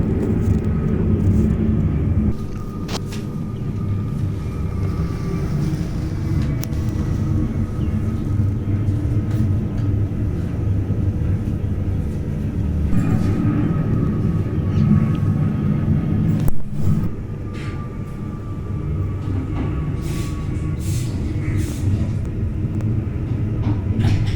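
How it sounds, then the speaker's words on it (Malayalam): A loud, steady jet roar rumbles continuously for a long stretch as an airplane powers down a runway and takes off, heard from beside the former Centaur Hotel. "ഇവിടെ നിന്നാ ഫ്ലൈറ്റ് ഇങ്ങനെ ടേക്ക് ഓഫ്"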